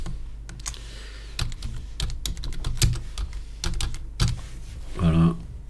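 Typing a file name on a computer keyboard: close, crisp key clicks in irregular bursts, a quick run of taps then pauses, ending with a firmer keystroke, no talking.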